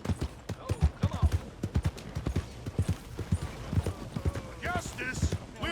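Horse hooves clip-clop in a steady, uneven rhythm in the Red Dead Redemption 2 video game, mid-distance, with people talking over the footfalls throughout.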